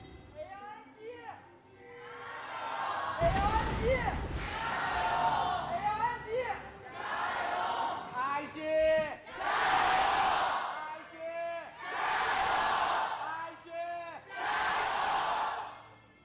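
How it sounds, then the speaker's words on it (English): A large crowd roars and chants in repeated loud waves at an LPL League of Legends esports match, rising and falling in rhythmic bursts with a caster's voice heard early on. "you could really hear the love for IG in the crowd there"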